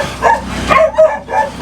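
Puppies give several short, high yips and barks in quick succession with a faint whimper, close by and fairly loud.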